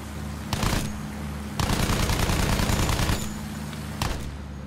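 Gunfire shooting down enemy aircraft in the World War I video game Battlefield 1, with two dense bursts of rapid automatic fire over a steady engine drone, loud and close, no talk.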